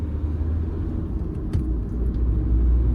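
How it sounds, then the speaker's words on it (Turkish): A Hyundai Getz 1.5 CRDi VGT diesel cruises in fourth gear at about 1800 rpm, giving a low, steady cabin rumble with road noise that swells slightly near the end. "1800 devirde 4. fites o kadar güzel topluyor ki abi"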